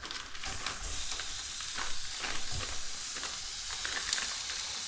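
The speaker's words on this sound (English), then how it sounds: "cook the meat whilst the pan's warming up for my eggs" Meat sizzles steadily in a warming frying pan, a close, continuous hiss with small crackles and spits and no talk.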